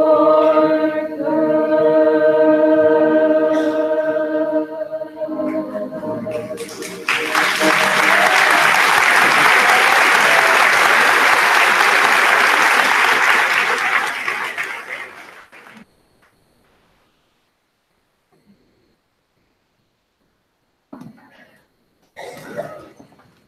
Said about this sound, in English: That was a nice clap for our chorus.